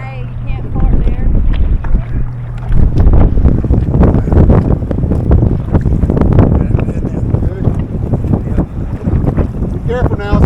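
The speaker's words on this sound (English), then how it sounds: "It's windy out here." Strong wind buffets the microphone on a fishing boat out on a bass lake, a steady low roar and rumble throughout, with voices talking over it.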